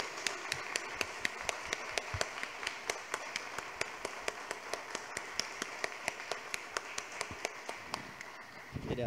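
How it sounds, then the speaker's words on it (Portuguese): An audience in a municipal council chamber claps at an honoring ceremony with a steady, even beat of crisp claps, heard faintly and at a distance in a quiet room. "Eu quero umas palmas para vocês também"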